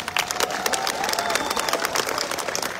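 A crowd claps and cheers as a band takes the stage, a loud close burst of dense applause with scattered whoops, continuing without a break.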